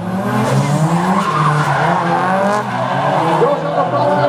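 A drift car at a professional drift competition final slides with long, wavering tire squeals over a loud engine, continuous and close, while a commentator's voice is heard over it.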